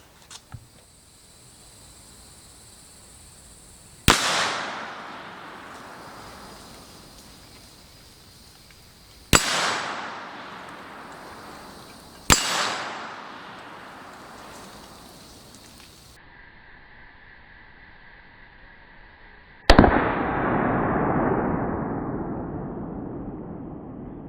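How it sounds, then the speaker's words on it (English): Four sharp, loud rifle shots from a Big Horn Armory AR 500 Auto Max, spaced several seconds apart outdoors, each with a long rolling echo, plus faint handling clicks and a quiet hum between shots. "I'm gonna load up and just take a few more shots"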